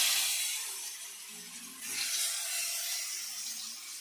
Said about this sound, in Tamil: மீன் வறுத்துட்டு இருக்கேன்.